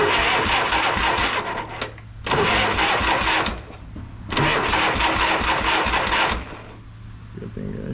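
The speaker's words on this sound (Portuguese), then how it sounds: "Vamos ver se o start está funcionando" A Harley-Davidson Shovelhead motorcycle engine, unused for three years, has its starter crank in three bursts of whirring, pausing briefly between attempts, without the engine catching.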